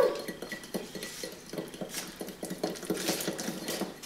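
A thick homemade skincare paste is stirred in a bowl, giving a steady run of soft scraping and clinking taps from the utensil against the bowl, close up and with no talking.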